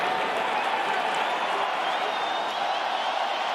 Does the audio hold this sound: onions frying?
no